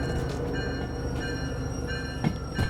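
Freight train in the Derail Valley simulator slowing under its train brake, a steady rolling rumble with faint high brake squeal and a couple of short clanks near the end.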